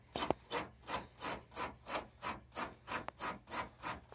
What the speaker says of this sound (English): give this a little scrub